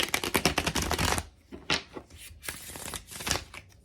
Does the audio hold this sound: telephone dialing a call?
no